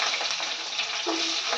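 Onions roast in a pan with a bright, steady sizzle and faint stirring scrapes over a brief moment, with no voices.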